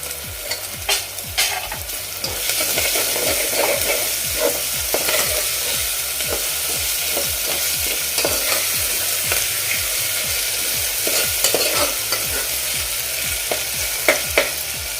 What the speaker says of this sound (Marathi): थोडीशी कोथिंबीर मी फोडणीमध्ये घालते